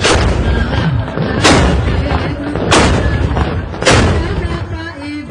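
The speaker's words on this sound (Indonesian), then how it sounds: "Gegap gempita dengan suara meriam yang menggelegar." Carbide cannons boom by the Kapuas river in Pontianak during Eid al-Fitr celebrations: three heavy, loud blasts about a second apart, each rising out of a constant rumbling din of distant firing.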